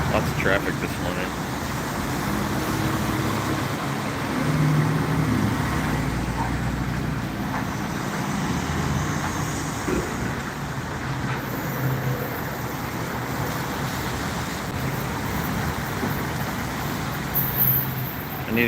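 Morning traffic in Lincoln Square: a constant wash of car and truck noise rolling past at moderate distance, even in level with faint intermittent sounds on top.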